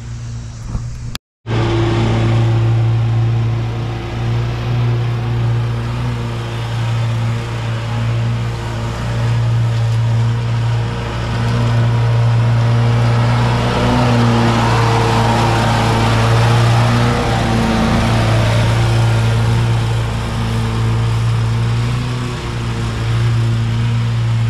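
A lawn mower engine runs steadily and close by throughout, a loud sustained drone with a strong low hum that briefly cuts out near the start before resuming.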